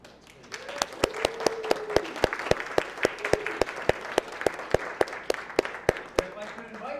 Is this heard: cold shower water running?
no